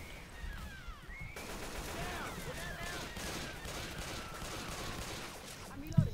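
Rapid gunfire volleys from Left 4 Dead 2 as players shoot the Witch, a dense continuous barrage of shots lasting several seconds with game ambience and a sharp burst at the end.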